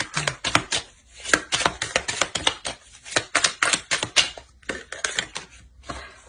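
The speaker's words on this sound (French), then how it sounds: "Et je mélange le jeu." A deck of tarot cards being shuffled by hand, a rapid run of crisp riffling clicks and flutters that stop and restart in quick bursts, close and with no talking.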